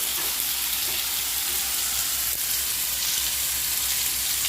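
Masala paste of tomato, salt, turmeric and cumin frying in a pan, a steady bright sizzle that holds evenly throughout with a faint low hum beneath.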